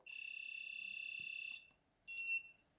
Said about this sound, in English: it gives you a beep, and it gives you different tones